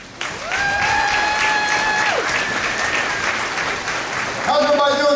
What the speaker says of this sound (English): Please join me in a round of applause for Colonel Myers.